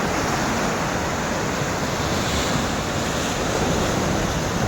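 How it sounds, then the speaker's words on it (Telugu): Sea waves breaking on a beach in the morning make a loud, dense, continuous roar of surf with steady wash and no distinct gaps, heard up close with some wind buffeting and no talking. "ఈ సముద్రపు అలలు సౌండ్ ఏ విధంగా ఉంటుందో చూపించడం కోసం మీకు"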